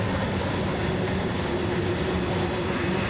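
A very long train passes through Montgomery, Alabama, a dense, unbroken rumble of rolling wagons and rail clatter, loud and close with no pauses.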